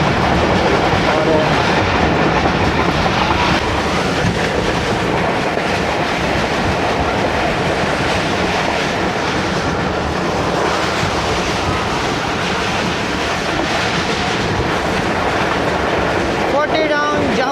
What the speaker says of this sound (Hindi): 40 down Jafar Express at its best, cruising toward Lahore